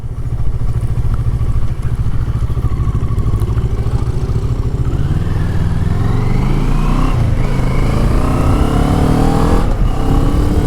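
A Moto Morini motorcycle accelerates hard on a test ride, its engine loud and close as the pitch climbs through the gears over a constant rush of wind, with no voices.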